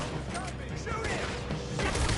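Gunfire rattles in Red Dead Redemption 2 during a chaotic shootout, with rapid cracks and crashes piling over one another throughout. Voices are heard in the mix.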